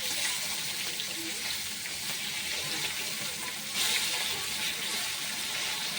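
Fish fries in a pan with a continuous hissing sizzle, fairly close and even, swelling briefly partway through; faint background sounds sit beneath it.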